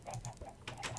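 A chicken in Minecraft clucks a few short, soft times in quick succession. The sound is faint and brief, with no talking.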